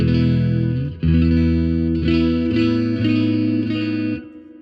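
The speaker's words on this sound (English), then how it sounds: "let's just add a little bit of built-in reverb so you can hear what that sounds like too" Sustained electric guitar chords ring out, bathed in built-in amp reverb, changing every second or so before the last one decays into a lingering tail.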